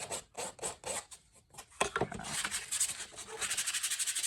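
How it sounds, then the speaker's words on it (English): A small spot on a laser-cut project is sanded by hand, with short rasping strokes in a loose rhythm that become a faster, denser run of scrubbing rubs, close and alone. "I'm also going to sand it back a little bit, especially this one little spot right here."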